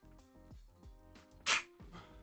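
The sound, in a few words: sneeze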